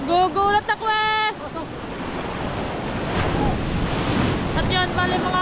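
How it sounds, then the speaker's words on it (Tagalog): Strong sea waves crash and roar continuously with heavy wind noise on the microphone, after a brief opening of voices talking. "tignan nyo naman yung alon. Lakas ng alon."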